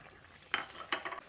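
Fried potatoes are stirred into a soybean curry with a spoon, making two or three quick, faint scraping clatters over a low simmer.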